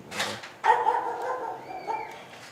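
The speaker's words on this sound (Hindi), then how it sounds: "ये हमें ये ऊपर देख के भौंक रहा है" A dog barks from close by in a creepy night setting, a short bark followed by a long, drawn-out howling bark that trails off; no talk over it.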